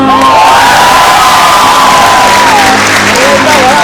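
A large audience at a Filipino Christmas performance cheers and applauds loudly and continuously, shouts and whoops merging into a steady roar with a sustained tone running through it.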